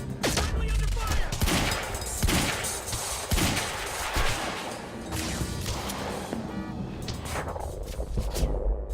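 A near-continuous barrage of loud gunfire during a firefight in the video game Quantum Break, with sharp cracks and impacts packed closely together.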